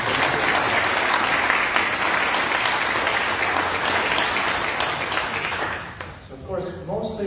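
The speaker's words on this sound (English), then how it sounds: "Let's give him a round of applause." Church congregation applause during a Sunday worship service fills the room in a full, steady wash of clapping that fades near the end as a voice begins speaking.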